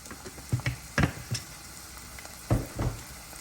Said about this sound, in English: we just need 2 tablespoons stirred into those onions and that butter